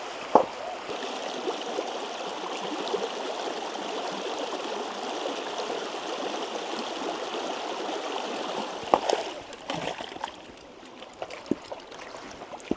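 A mountain stream flows steadily with a constant broad rush of water, close and even throughout, broken near the end by a few sharp knocks and splashes as the flow thins.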